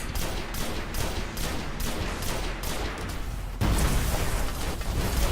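Gunfire and a grenade blast from the Destiny video game, with dense, continuous bursts of shots that jump to a louder, fuller roar partway through, with no voices.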